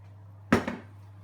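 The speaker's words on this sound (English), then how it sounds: "get it out and open the oven." An oven opened and a toad in the hole dish lifted out: two quick metallic clunks close by over a steady low kitchen hum.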